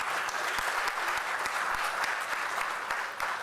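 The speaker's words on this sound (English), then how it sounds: "May we welcome them with a big round of applause," Applause at an international education conference as vice chancellors are welcomed onto the stage, a dense, steady clapping from the audience with no talk over it.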